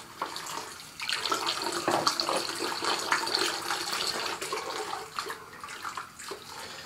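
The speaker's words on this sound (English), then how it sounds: "Let me first finish cleaning my hands." Hands are rinsed under a running tap at a sink after lathering shaving cream, a continuous close splashing rush of water with small shifts as the hands move through the stream, and no talking.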